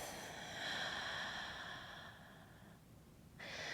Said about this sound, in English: Exhale it out through the mouth.